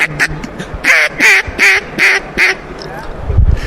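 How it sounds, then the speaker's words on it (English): A handmade duck call blown in a short series of loud, close quacking notes, evenly spaced, with a brief low voice before them. "All right, let's start with duck."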